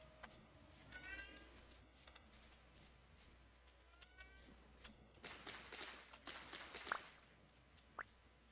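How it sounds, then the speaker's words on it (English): A pet cat gives a few faint meows over a quiet room hum, spaced a second or two apart, followed by some louder rustling and clatter near the end. "I'm gonna let my cat in my room. Meow here."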